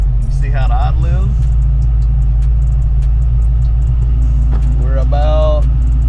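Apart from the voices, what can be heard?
Foxbody Saleen Mustang engine idling with Holley EFI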